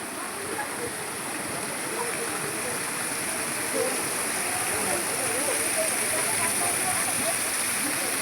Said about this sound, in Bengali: গোমুখ, যা দিয়ে অবিশ্রান্ত জলের ধারা পড়ছে